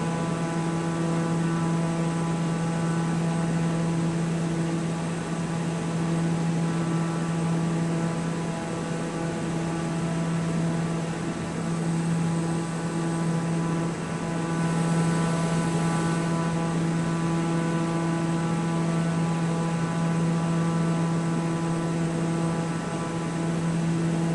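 A Spitfire's propeller engine drones in Microsoft Flight Simulator 2024 on PS5, a steady, loud, even hum with a strong rumbling tone that holds unchanged for over twenty seconds without any talking.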